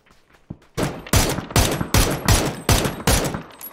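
Loud, close gunfire from a multiplayer shooting video game comes as a rapid series of about eight sharp shots in a steady rhythm, after one brief faint shot at the start.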